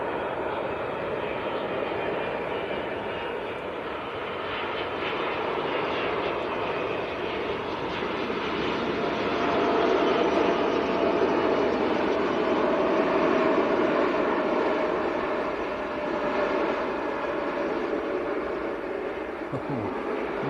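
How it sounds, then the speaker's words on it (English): Airliner landing at Manchester Airport, a broad steady jet engine roar that swells slightly midway and holds throughout, with faint talk nearby. "Let's see how much smoke this kicks up when it's when the tyres hit the tarmac."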